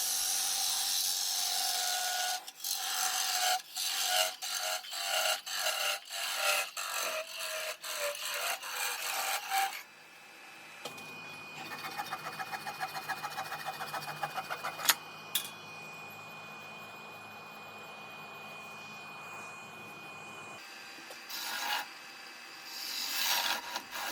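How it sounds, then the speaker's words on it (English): A wooden bowl base on a lathe parted off with a parting tool, giving a rapid rhythmic scraping, then a small hand saw cutting through the rest in a steady rasping stroke, close and loud. "I'm just going to part this off with a parting tool and then take a small saw and just cut the rest of it off."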